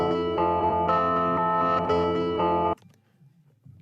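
Pitched-up melodic sample, half-timed, with its last beat reversed, playing as bright sustained tones in a few even chord steps, then cutting off abruptly into a faint, soft tail.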